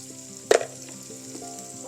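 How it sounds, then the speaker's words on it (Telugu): Onions with salt frying in a pan give a quiet steady sizzle, with one short sharp crackle partway through and faint stirring scrapes. "ఉప్పు వేసిన తర్వాత ఉల్లిపాయలు మంచి కలర్ వచ్చే వరకు వేయించుకోవాలి."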